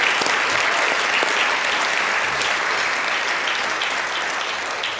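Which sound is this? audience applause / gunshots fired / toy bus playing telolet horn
audience applause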